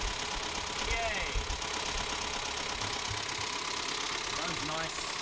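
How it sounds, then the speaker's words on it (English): A car engine idles steadily after a repair that added vacuum advance, a continuous low rumble with a slight knock running throughout, close and moderately loud. "At least the engine is running and it has vacuum advance now."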